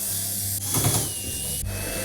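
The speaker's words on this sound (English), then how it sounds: "Then we'll remove the 4 screws on the mounting tabs for that bulkhead." A ratchet clicks rapidly while backing out mounting-tab screws from the bulkhead of a Samsung dryer, a close, steady mechanical ticking with a brief pause between turns.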